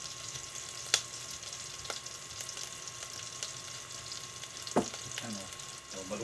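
Garlic, ginger and onion sauté in a home kitchen pan with a steady broadband sizzle, broken by a couple of sharp clanks of a utensil against the pan.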